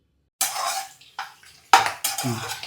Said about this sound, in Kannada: ಇಷ್ಟನ್ನು ಹಾಕಿಬಿಟ್ಟು ಇನ್ನೊಂದ್ಸತಿ ಗೂರಾಡ್ರಿ